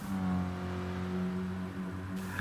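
Car engines droning and revving in a racing video game, with a steady, loud whirring tone and no voices.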